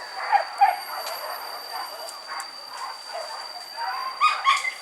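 Hunting dogs yip and whimper in short bursts at the start and end, with a faint high whine running through the background.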